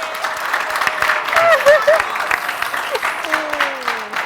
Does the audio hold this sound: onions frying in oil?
no